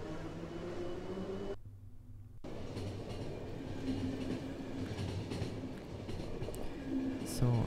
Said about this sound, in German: Der Zug setzt sich in Bewegung.